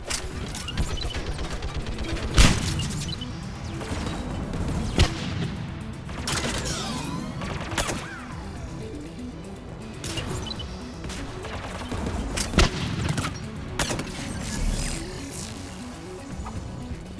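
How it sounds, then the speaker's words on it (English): Mounted turret fire in the Mass Effect 3 video game, with repeated heavy shots and impacts scattered over a steady stream of combat noise and no speech. "Mounted turrets."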